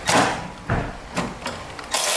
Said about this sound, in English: we're going to use our electric ratchet on these 2 nuts